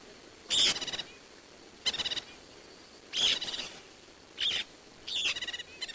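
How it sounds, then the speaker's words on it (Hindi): Parrots at a zoo give short bursts of shrill chirping, five clustered calls spread evenly over several seconds, fairly close and clear against a quiet background. "यह चहचहाहट तो तोतों की है ना?"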